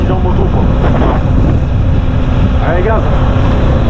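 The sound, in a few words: motorcycle riding on a road in northern Vietnam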